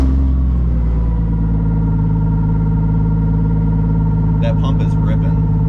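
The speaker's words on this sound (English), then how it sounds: "That pump is ripping." Volvo 240 running on straight E85 pulling hard: a loud, steady engine drone under a sustained whining tone from the fuel pump, with a person talking over it near the end.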